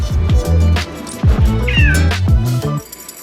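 A cat on catnip meows repeatedly up close, several drawn-out, wavering yowls in quick succession with short gaps between them.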